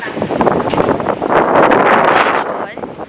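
Strong wind at Chin Swee Cave Temple in Genting Highlands, Malaysia, buffets and roars across the microphone in loud continuous gusts, easing slightly toward the end.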